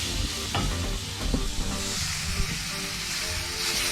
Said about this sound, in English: Now I'm adding this roughly chopped tomatoes.